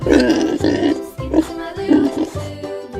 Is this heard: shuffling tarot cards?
no